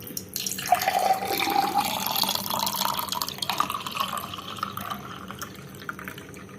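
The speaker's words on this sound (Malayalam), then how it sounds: "ഇപ്പോൾ ജ്യൂസ് തയ്യാറായിട്ടുണ്ട്. ഇനി നമുക്കിത് ഒരു ഗ്ലാസ്സിലോട്ട് ഒഴിക്കാം" ABC juice poured from a blender jar into a glass, a steady liquid splash and trickle running for several seconds at close range, with no talking.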